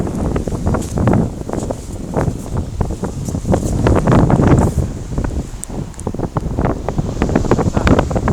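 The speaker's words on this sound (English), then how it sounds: "Definitely windy out here." Strong wind buffets the microphone in loud, continuous rumbling gusts, with rustling noise rising and falling throughout, outdoors on a rainy walk at Lamlash, Isle of Arran.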